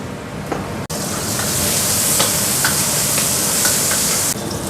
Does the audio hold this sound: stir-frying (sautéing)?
yes